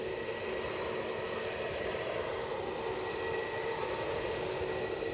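An EasyJet airliner passes overhead near Edinburgh, its engines producing a steady, continuous broadband roar that holds at an even level throughout, without any voices.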